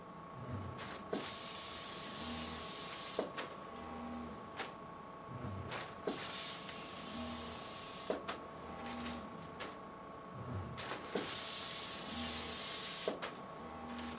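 A robotic pick-and-place system lifts bags of chips from a conveyor into a box, with a continuous pneumatic hiss and machine hum broken by regular sharp clicks and thumps every couple of seconds as each bag is grabbed and released.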